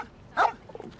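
A single dog bark in the Genshin Impact video game, loud and close, standing alone with a few faint game sounds trailing after it.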